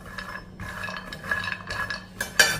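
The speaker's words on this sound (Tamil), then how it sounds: "இதை ஒரு 2 நிமிஷத்துக்கு கடாயுடைய சூட்டில் மீடியத்தில் வச்சு வறுத்துக்கிடுவோம்." Walnuts, almonds and cashews are dry-roasted in a hot kadai over medium heat, with soft scraping and light metallic clinks of a spoon against the pan recurring through the short stretch.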